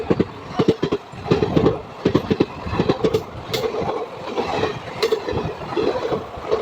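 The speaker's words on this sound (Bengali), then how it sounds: "তিন নম্বর লাইন দিয়ে ছুটে বেরিয়ে যাচ্ছে গঙ্গাসাগর এক্সপ্রেস" Gangasagar Express train passing on track three at night, a loud rhythmic clickety-clack of wheels over rail joints with steady rumble throughout, close by.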